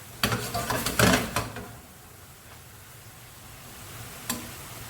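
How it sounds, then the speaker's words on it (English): Minced beef for spaghetti bolognese hisses and sizzles in a hot pan on high heat while its released water boils off. Crackling bursts come in the first second and a half, then a steadier low sizzle with one brief pop near the end. "That's the mince boiling in its own water."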